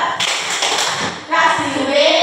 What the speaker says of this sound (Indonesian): silahkan kita beri tepuk hebat untuk kelompok 4. Tepuk hebat